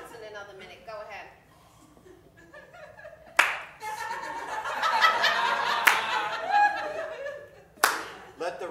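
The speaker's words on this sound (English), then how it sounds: "Let the record reflect I'm clapping sarcastically" Sarcastic clapping in a mock courtroom trial: slow, sharp hand claps rise out of chatter and chuckles, with louder bursts of laughter and talk around them before a final clap.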